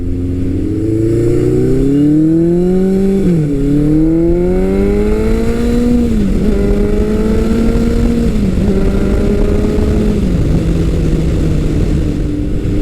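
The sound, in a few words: motorcycle engine with 4-into-1 exhaust revving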